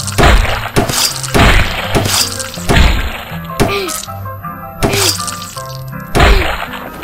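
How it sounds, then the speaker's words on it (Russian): In the video game Whack The Thief, a thief is beaten with a flashlight: repeated heavy thwacks and crunching smashes with a glassy, breaking edge, one after another in a rough rhythm, loud and close, over a low tonal backdrop. "он его забивает его же фонариком"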